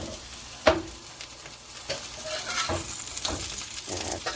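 Beef burger patty frying in oil in a pan, a continuous crackling sizzle with scattered sharper pops and spatters, close and fairly loud with no talking.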